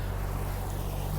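A sailboat motoring under engine on the open ocean in hot, light-wind conditions gives a steady low engine drone mixed with broad wind and water hiss, continuous and unbroken.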